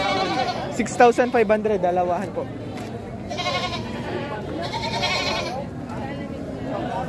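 Two male goats for sale at a livestock market in Padre Garcia, Batangas, give a quick run of bleats amid a crowded, murmuring space, with people talking close by throughout.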